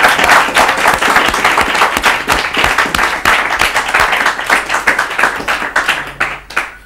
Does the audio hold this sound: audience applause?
yes